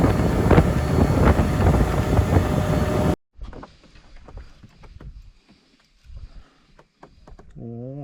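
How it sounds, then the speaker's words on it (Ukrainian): Loud, blustery wind buffets the microphone for a few seconds while fishing for zander on the Dniester River, then drops away to quiet splashing and faint movement. "Вітер страшенний."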